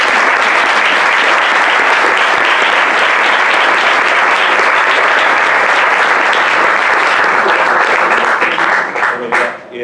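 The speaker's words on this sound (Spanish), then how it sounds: "pero antes de nada pediría un aplauso para Tom." Sustained, loud audience applause fills a conference hall after a talk at a Kutxabank colloquium, a dense wash of clapping that fades at the very end.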